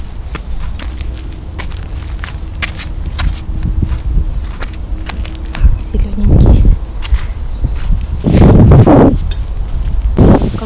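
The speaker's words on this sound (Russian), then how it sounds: "Какой ветер." Wind buffets the microphone in low rumbling gusts outdoors, mixed with footsteps and rustling, with brief voices near the end.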